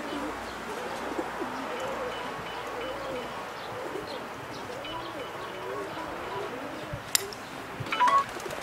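Pigeons coo in a racing pigeon loft in Kosakowo during a winter race, low throaty calls repeating under a steady outdoor hush, with scattered chirps and a sharp tap near the end.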